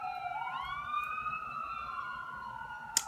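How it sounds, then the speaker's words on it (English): An emergency vehicle siren wails with a steady, sweeping tone, fairly clear and sustained, ending with a brief sharp click. "I'll wait for you to finish your sirens."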